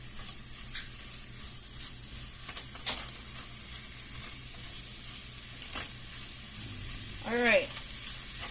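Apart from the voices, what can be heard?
Old El Paso asada chicken cooking in pan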